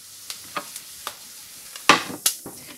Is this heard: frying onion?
yes